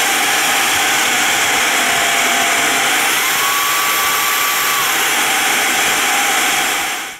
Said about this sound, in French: ça fait le bruit d'un aspirateur balai à main